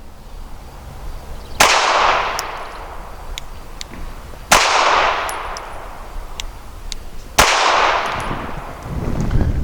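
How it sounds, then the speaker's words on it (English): Three sharp, loud cracks from an S&W Performance Center Shield EZ .380 pistol firing light loads at an outdoor range, spaced about three seconds apart, each followed by a short ringing decay. "these super light loads make a crack of a sound when they fire"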